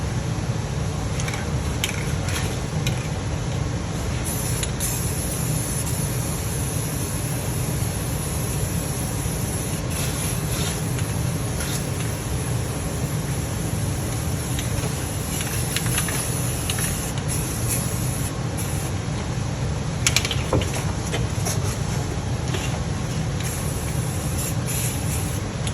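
Rust-Oleum primer and paint sprayed from an aerosol can while working on an EZGO 48-volt golf cart: a continuous broad hiss throughout, with faint clicks and shifts in the spray, no talking.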